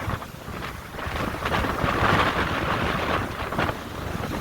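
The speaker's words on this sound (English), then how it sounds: "The wind is ripping right now." Strong wind from Tropical Storm Barry roars on a shoreline, buffeting the microphone in loud, continuous gusts that swell and ease, with no voices.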